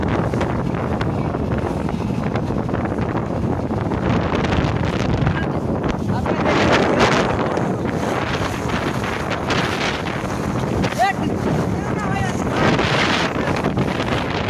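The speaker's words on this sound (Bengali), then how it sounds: "আসলে এত ঝড় বইতেছে যে আমরা কিছু বলতে পারতেছি না" Stormy wind buffets the microphone while waves wash around a boat on open water, a constant roaring rush with occasional voices underneath.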